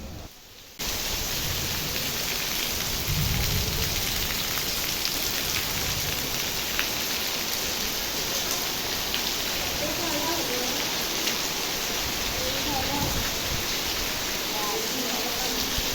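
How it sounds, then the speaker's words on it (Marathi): Heavy rain pours down in a dense, continuous hiss that starts abruptly and stays loud and steady throughout, with faint voices beneath. "दुपारी अचानक खूप जोराचा पाऊस यायला सुरुवात झाली"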